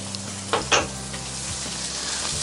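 Thick sliced bacon pieces sizzle in two cast iron skillets, one smooth and one stock, while a metal tool stirs them, adding a couple of sharp scrapes over the constant close hiss of frying.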